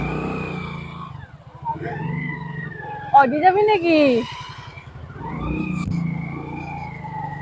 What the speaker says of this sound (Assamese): এতিয়া আমি যাব লৈছো বাইকৰ উঠি পিনে যাম